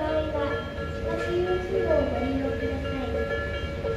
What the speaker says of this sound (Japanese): 回送電車が来るんじゃないかなと考えられますけども